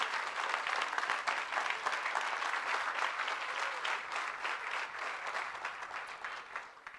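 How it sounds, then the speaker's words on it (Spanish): Sustained audience applause at a forum honoring graduating midwifery students, a dense, even wash of many hands clapping for several seconds before tapering off, heard from within the hall. "Otro aplauso, por favor."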